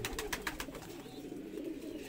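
Shirazi pigeons coo softly in a breeding setup, a few close, rhythmic throaty calls over a quiet background.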